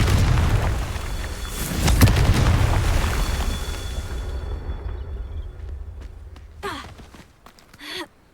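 A Confringo fire spell in Hogwarts Legacy detonates as a heavy, booming explosion that rumbles loudly and fades out over several seconds, followed by a couple of brief sharp sounds near the end.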